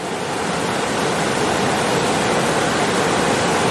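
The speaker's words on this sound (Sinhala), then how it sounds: "මෙතන ලොකු වතුර පාරක් ගහගෙන යනවා" A large stream of water rushes over rocks at a resort, a loud, continuous, broadband roar with no breaks, close by and unaccompanied by voices.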